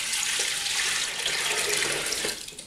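Tap water rushes steadily into the basin of an O3 washer in a loud, continuous stream for a few seconds, tapering off at the end.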